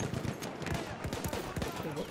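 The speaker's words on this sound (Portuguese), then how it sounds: "É muito tiro, brother." Dense rapid gunfire from the Battlefield 1 Fao Fortress map, bursts of shots crackling continuously at close to middle distance with a voice talking over part of it.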